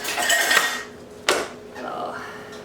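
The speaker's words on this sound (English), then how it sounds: "Take the lid off, be careful because it is steamy" A metal lid is lifted off a pot of freshly boiled potatoes in a home kitchen, giving a sharp clank near the middle over a steady steamy hiss, with a softer scrape afterward.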